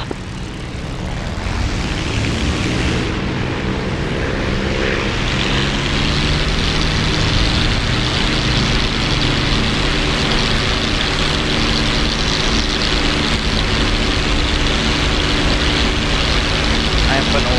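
A P-51D propeller fighter in the DCS flight simulator takes off on a runway, its engine a loud, steady, continuous drone that builds after the first few seconds and holds throughout, with talk over it.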